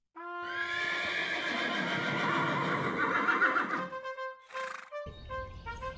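A large black horse gives a loud, drawn-out whinny that fades into snorts and a brief second neigh, close and alone with no talk.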